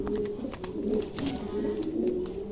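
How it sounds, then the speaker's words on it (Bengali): A pair of pigeons coos close by, soft throaty rolling calls repeating in a steady rhythm over a low background hum, with no talking. "চমৎকার এক জোড়া কবুতর"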